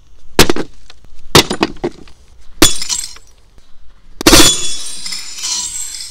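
A rugged BlackView BV6200 Pro phone is struck against glass, giving several sharp separate impacts with clinks, then a final hit that shatters the pane into a ringing, tinkling spray of breaking shards.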